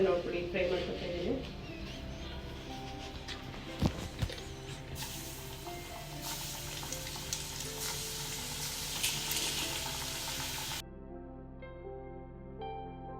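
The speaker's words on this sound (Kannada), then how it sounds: "ಫ್ರೈ ಮಾಡ್ಕೊತಾ ಇದ್ದೀನಿ" Chicken popcorn pieces fry in oil on a stove over a low-to-medium flame, giving a steady, close, dense sizzle with a brief clatter partway through that stops abruptly near the end.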